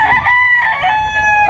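A fighting cock for sale crows once close and loud, one long drawn-out call filling the whole moment with no talk.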